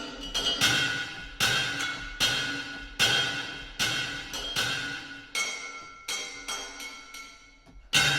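A metal shop percussion patch from music composition software plays clanging metallic hits with bright ringing overtones, struck in a steady pulse roughly every second, each strike decaying under the next, with no talking.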